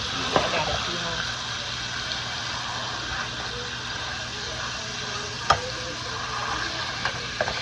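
Food sizzles and fries steadily in a pan while a spatula stirs and scrapes at it, with a few sharp knocks against the pan under a low hum and brief speech.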